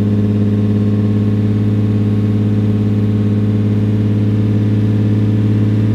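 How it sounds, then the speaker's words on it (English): A 2002 Lexus IS300 that had been running poorly and just received new spark plugs idles after a cold start, a loud, smooth, constant low engine drone with no revving, heard up close. "you guys can hear the exhaust note, it sounds a lot better and it's a lot smoother"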